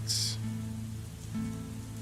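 A rain ambience playing during an online tabletop role-playing session, a soft continuous patter of drops under a low steady hum with no talk.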